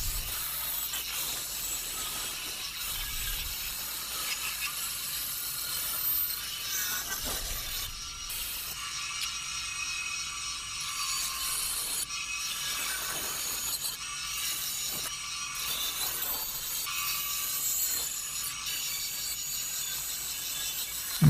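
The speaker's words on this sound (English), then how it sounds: "using my bandsaw to remove some of the excess material on the sides of the neck" Bandsaw trimming excess wood from the sides of a handmade guitar neck, giving a steady broadband whir with rasping cutting noise throughout, fairly quiet with small shifts as the blade works through the wood.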